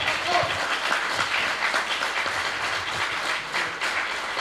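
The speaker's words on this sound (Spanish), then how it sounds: "un aplauso muy grande para Marcelo Saltal" Audience applause for Marcelo Saltal at the end of a talk about Liber Teatro, moderately loud, steady clapping from a room of people that continues evenly throughout, with faint voices mixed in.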